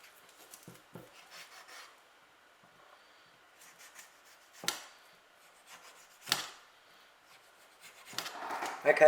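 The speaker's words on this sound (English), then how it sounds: "Scrape the fat, cut, scrape both." Knife blade scraping fat from a lamb shank bone for a curry, soft intermittent rasping strokes close by, with a few sharper scrapes and knocks spaced across a quiet background.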